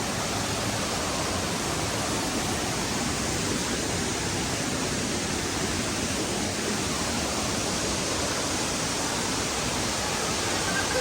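A waterfall gives a loud, unbroken roar of rushing water that stays even and dense throughout, with no other sounds rising above it.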